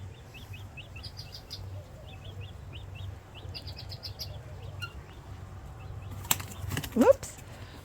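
Guinea fowl keet flapping its wings in a brief flurry of soft, rapid beats near the end, after a stretch of repeated high peeping chirps over a low background hum, close by, with no talking.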